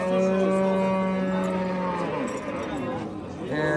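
Dairy cows low at a rural livestock bazaar in Surxondaryo, a long, drawn-out moo sounding close and loud, followed by quieter crowd murmur and market noise.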